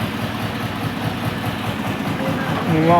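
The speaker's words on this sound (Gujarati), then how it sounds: "અને ટ્રેક્ટરે જો ચાલુ કરી દીધું." A tractor engine runs at a steady low idle close by, a continuous rumbling drone that swells slightly louder near the end.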